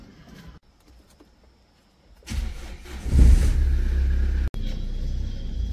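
After a quiet start, a car's engine fires up abruptly and settles into a loud, close rumble on the way to fill up with diesel.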